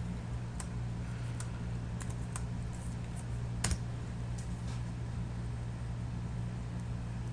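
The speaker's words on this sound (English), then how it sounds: "So if I were to type" A computer keyboard gives a few scattered, faint key clicks over a steady low background hum, with long quiet gaps between the presses.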